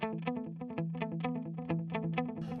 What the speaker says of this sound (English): So definitely in digital delay territory.